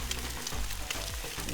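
An egg frying in butter on a griddle, a soft steady sizzle with crackling pops, fairly quiet and continuous.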